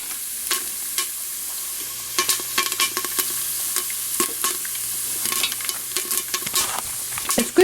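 Popcorn begins popping in a pan on the stove, steady sizzling hiss with scattered sharp pops and crackles growing more frequent, close and moderately loud with no talking.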